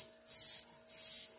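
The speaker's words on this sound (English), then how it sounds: "if you spray over it, oh so slightly, it's glazing it" Airbrush spraying thin, watery paint over a portrait, two steady hissing bursts of about a third of a second each separated by short pauses, close and fairly soft.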